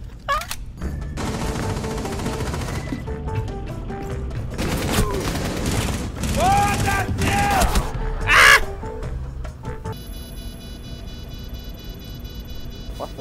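Gunfire in the tactical shooter game Rainbow Six Siege, bursts of shots crackling amid loud game effects and music, with an abrupt electronic tone near the end.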